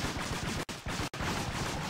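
A machine pistol in Serious Sam Double D XXL fires in fast, continuous bursts, loud and close, broken by two split-second pauses between volleys.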